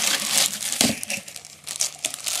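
Paper wrapping around a newly unboxed knife in a leather sheath crinkles and tears, close and brisk, in several short bursts of rustling.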